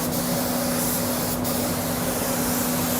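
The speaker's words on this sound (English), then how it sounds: "Now, this particular gun does put a lot of material out." A Sagola 4600 Xtreme spray gun lays down car paint with a steady, loud, close hiss that runs unbroken throughout, with a brief dip in the spray partway through.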